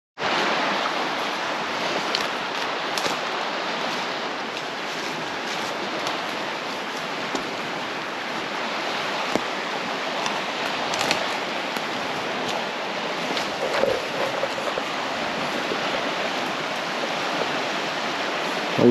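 A swollen, flooded river in remote backcountry rushes steadily and loudly close by, a dense continuous roar of churning water without pause.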